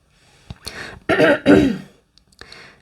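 A person clears their throat close up with a couple of quick, rough rasps. A softer catch of breath follows after a short pause.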